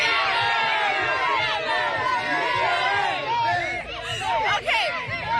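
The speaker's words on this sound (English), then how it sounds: "we have a very energetic, very enthusiastic crowd" A crowd of children at a football game yells and cheers energetically, with many overlapping excited shouts and squeals, loud and close, in a continuous burst of noise.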